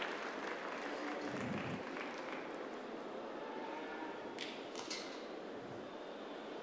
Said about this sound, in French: je demande encore des applaudissements pour Paul, si vous voulez.